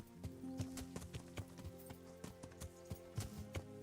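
Horse hooves clip-clop in a steady riding rhythm in the medieval video game Kingdom Come: Deliverance, close and clear over a low game soundscape, with no talking.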